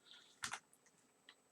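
A command being typed on a computer keyboard, a quick close pair of key clacks followed by a couple of faint lighter taps in a quiet room.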